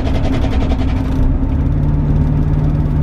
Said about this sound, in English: You let off the gas, it's when she makes an awful racket.